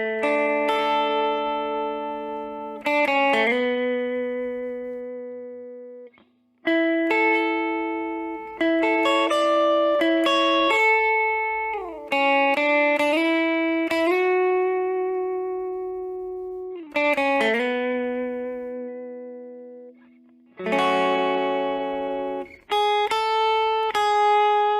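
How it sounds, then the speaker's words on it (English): A clean electric guitar with no effects plays a song: bright picked notes and chord stabs in short phrases with brief gaps, loud and close, with no talking. "So with no effects on, the whole part sounds like this."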